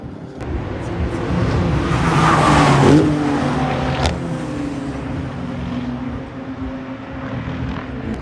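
Cars roaring past at speed during a large Brûleurs de Gommes car event, a loud engine whoosh swelling to a peak and fading, followed by a steady background drone and traffic noise.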